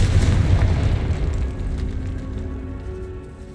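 A loud, booming blast from the Confringo explosive spell in the game Hogwarts Legacy, hitting hard at once and rumbling away over a few seconds with no voices.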